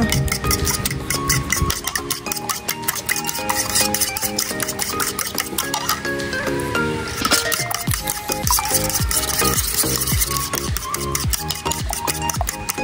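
Steady crackling and popping of fish frying in a pan, with scattered clinks of a utensil against metal throughout.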